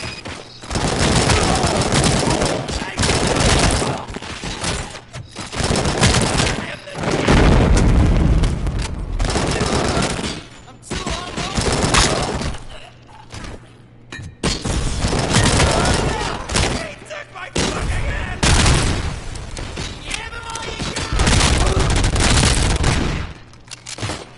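Rapid bursts of Auto 9 pistol gunfire in the RoboCop video game, loud and near, with repeated volleys and booming impacts in clusters throughout, some voices heard amid the shooting.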